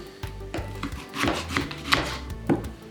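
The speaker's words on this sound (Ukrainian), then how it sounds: "Нарізаємо цибулю" A knife chopping an onion on a board, a run of sharp, close knocks at an uneven pace, about seven or eight cuts, loud and clear with no one speaking.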